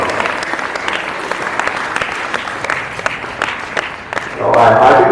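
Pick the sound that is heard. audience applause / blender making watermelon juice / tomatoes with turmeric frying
audience applause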